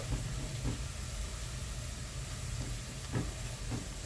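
Chopped onions fry in a pan as they brown evenly before green fava beans go in, a steady broadband sizzle with faint stirring clicks, moderately close and without talk.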